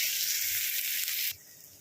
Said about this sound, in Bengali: দেখুন পেঁয়াজ আমি ভেজে নিয়েছি